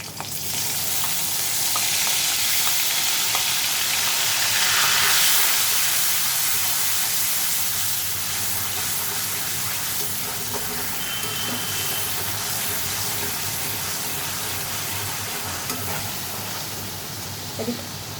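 Ginger and garlic paste hitting hot oil in a pan sets off a loud, steady sizzle and hiss that is strongest at first, then settles into continuous frying with faint stirring, no voices over it.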